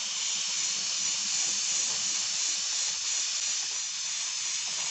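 Aerosol spray paint applied in a light coat to a 1/35 scale Italeri S100 Schnellboot model boat, a loud, continuous close hiss held steadily throughout with no talk.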